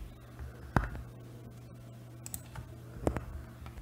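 Keyboard and mouse clicks come from a computer during photo editing in GIMP, a few sharp, sparse clicks over a steady low electrical hum with no speech.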